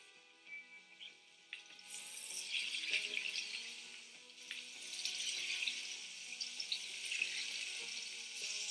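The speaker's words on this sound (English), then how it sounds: "Just get the butter foaming first before you put the fish in." Cod sizzling as it fries in foaming butter and oil in a pan, a steady close hiss that swells and crackles for several seconds with no talk.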